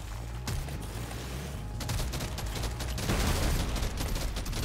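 Dense, continuous gunfire in the game Deep Rock Galactic Survivor, a loud rattling barrage with mechanical clatter that keeps up throughout and swells toward the end.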